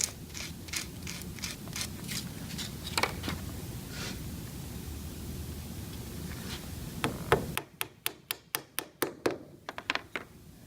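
Light wooden tumbler pieces are tapped into line: scattered soft knocks over a low rumble, then a quick run of sharp, evenly spaced taps near the end.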